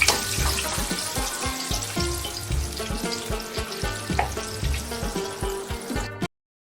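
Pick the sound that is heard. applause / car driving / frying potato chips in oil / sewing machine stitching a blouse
frying potato chips in oil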